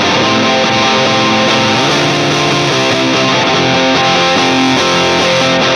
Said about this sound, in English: It's almost like you're driving the speaker so loud that it's starting to break up.